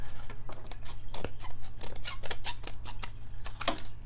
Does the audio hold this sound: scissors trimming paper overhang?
yes